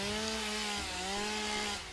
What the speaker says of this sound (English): because we don't have explosives, we're gonna have to chainsaw this